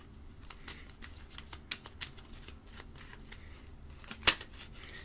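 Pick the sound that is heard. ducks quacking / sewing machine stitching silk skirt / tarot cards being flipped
tarot cards being flipped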